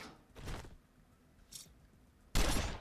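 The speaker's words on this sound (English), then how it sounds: "Open up with a burst on him." Short bursts of gunfire from the video game Wasteland 2: a brief crackle, a faint high snap, then a louder sharp burst at the end, with quiet pauses between.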